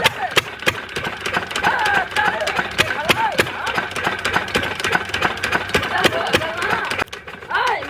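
An engine runs and idles with a rapid, rhythmic knocking chatter, loud and close, while people talk over it; the clatter pauses briefly near the end.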